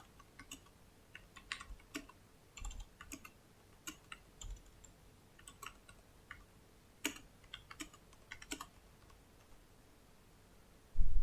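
Computer keyboard typing while footnotes are entered in InDesign: sparse, irregular key clicks in short bursts, close but quiet, with no talking.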